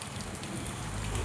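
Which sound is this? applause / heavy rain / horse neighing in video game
heavy rain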